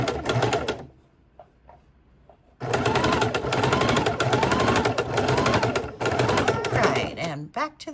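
A sewing machine stitches fabric for a bowl cover, loud rapid mechanical chatter in long bursts broken by a pause near the start, slowing for curves, with a voice talking over it.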